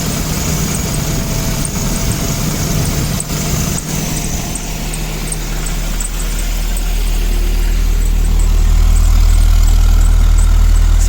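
A 1984–89 Toyota Van Wagon engine idling steadily on its own after a fuel pump replacement, a loud continuous low rumble that grows fuller and heavier toward the end, with no talk.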